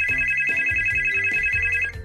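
A telephone rings for an incoming caller on a children's show, a loud, steady electronic ringtone with a pulsing repeated pattern, close and alone, cutting off at the end.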